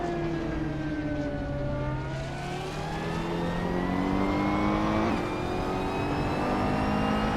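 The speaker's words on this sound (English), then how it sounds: "the race is just kicking off at Termas de Rio Hondo" Several 2016 Ferrari 488 Challenge race cars pulling away at the start of a racing game event at Termas de Rio Hondo, engines droning and rising in pitch together as a loud, continuous layered roar.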